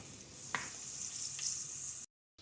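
Long-cut garlic strips sauté in hot oil for fried rice, giving a steady close sizzle and hiss with a couple of brief stirring scrapes before the sound cuts off abruptly near the end.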